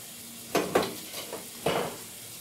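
Vegetables cooking in a pan on a stove set to low, a quiet sizzle with several distinct stirring scrapes in short bursts, no talking.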